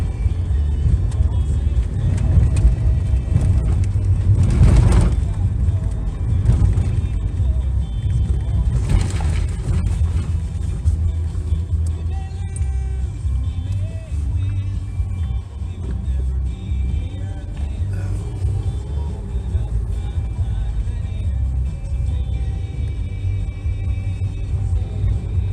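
A car drives along a country mountain road in spring, its steady low engine rumble and road noise continuing throughout, with a couple of louder swells near the start and faint voices mixed in.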